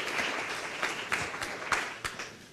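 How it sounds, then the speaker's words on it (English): Audience applause for a 20th anniversary at a nonprofit online-safety event, a steady wash of many hands clapping for a few seconds at moderate distance, with faint talk underneath. "A round of applause to Venu for his 20th anniversary tonight."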